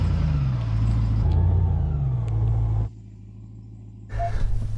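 A Hummer H2 truck's engine rumbles loud and close while it drives off-road, a deep steady drone that swells slightly, then drops away abruptly near the end before returning with some rattling.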